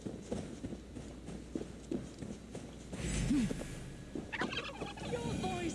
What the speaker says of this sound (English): Truly the most riveting of side quests, and yes, it is a pet turkey.